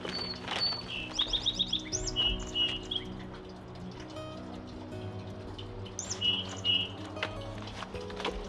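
A mother quail chirping indoors, bursts of quick high chirps and calls repeating over a soft background hum, fairly close.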